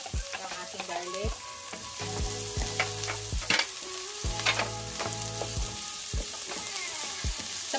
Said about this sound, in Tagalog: ilagay ko na yung aking bawang, yung aking garlic